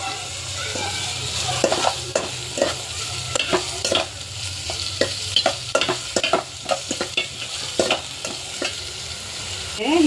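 Onions frying in a pan with salt added, stirred steadily so that repeated sharp scraping strokes sound over a continuous loud sizzle, with no talking.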